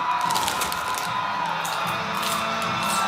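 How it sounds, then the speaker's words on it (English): A large indoor crowd at a gymnastics meet cheers and roars continuously, a dense wash of voices with whoops rising above it. "Even with all the crowd and everybody cheering so loud"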